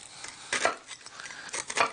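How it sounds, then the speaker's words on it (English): A knife cutting a small piece of cooked fish on a plate: a few light scraping strokes and soft clicks of the blade against the dish, close and quiet, with no speech. "Let me cut a small piece so we can have it flat like that"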